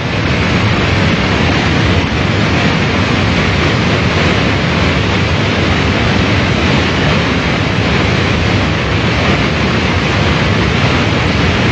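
Water from the Jinjudam waterfall on Mount Kumgang pours into its pool, making a loud, steady, broadband rush with no break or change in intensity.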